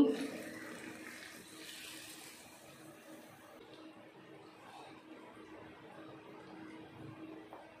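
Steady, soft rush of a cup of water being poured into a cooking pot of mashed toor dal, continuous and fairly quiet throughout, with no talking.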